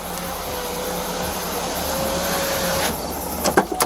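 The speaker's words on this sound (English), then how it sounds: "I'm gonna roll my window up real quick." A police car's power window motor whines steadily for a few seconds as the window rolls up, then stops with a soft thump and a couple of small clicks, with the car's low hum beneath.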